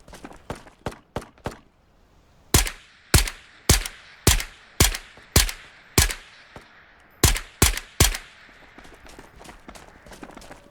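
An SMG in the VR shooter Ghosts of Tabor fires in single-shot mode: loud, close, sharp reports, a few quicker shots, then about a dozen evenly spaced cracks with short pauses between groups.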